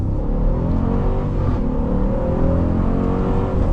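A 2025 Dodge Durango R/T under acceleration, its exhaust note a loud, close, deep rumbling growl that swells steadily as the engine revs up through the gear, heard from inside the car with no talking.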